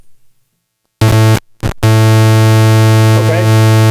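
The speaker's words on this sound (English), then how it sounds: "then we'll listen to the pulse." A loud, buzzy synthesizer pulse-wave tone, held steady after two brief starts, with a rich stack of harmonics and a short wobble near the end.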